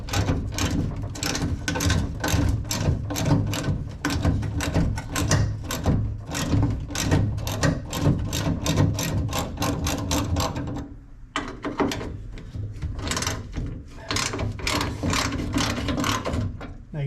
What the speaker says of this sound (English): Just a 7/16 inch socket. Just going to loosen them up,